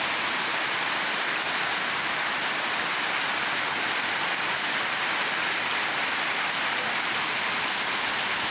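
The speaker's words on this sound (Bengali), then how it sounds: "বৃষ্টি অনগল পড়তেছে" Steady rain falls over a market street, a dense, even hiss that stays loud and unbroken throughout.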